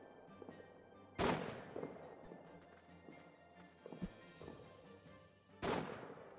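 Gunfire in All Quiet in the Trenches: two distant, fairly faint rifle shots several seconds apart over a low trench-battle ambience with scattered small clicks and thumps.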